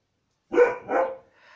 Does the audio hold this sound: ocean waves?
no